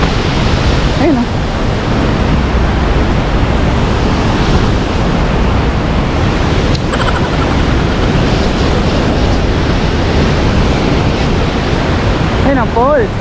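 Bagongbong Falls in Biliran thunders as a loud, unbroken roar of rushing water that fills the whole scene close up. Brief voices rise faintly above the rumble now and then.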